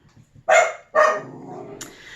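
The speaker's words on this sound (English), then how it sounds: "There's my dog." A dog barks twice in quick succession, close and sharp, then a fainter yelp follows after a short pause.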